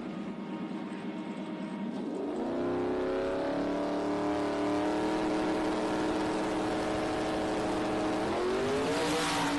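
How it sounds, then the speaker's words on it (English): A 2011 Mustang GT with a Boss 302 engine launches down a drag strip, engine note climbing loud and harmonic through a gear change, heard from trackside over a continuous roar. "Good launch there for Lund."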